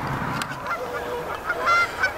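Canada geese honking at a wide open pool in spring, several calls overlapping at mid distance with bursts of louder honks toward the end, no voices.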